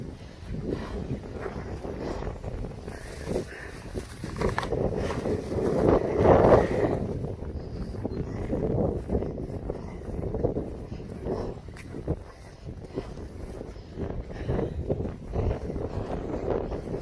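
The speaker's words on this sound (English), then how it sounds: "At least we have a decent, I wouldn't say breeze, but a wind." Wind blows across the grounds of Fort Laramie during its 175th anniversary, a steady, gusty rumble buffeting the microphone throughout, swelling briefly in the middle.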